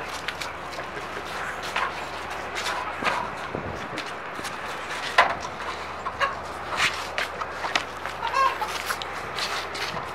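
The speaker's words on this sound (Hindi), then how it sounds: "ये देखें मुर्गी को हम छोड़ रहे हैं उसको पकड़ना अभी एक काम है" Chickens clucking and squawking while being chased, amid scuffling footsteps and rustling, irregular bursts close by, with faint voices in the background.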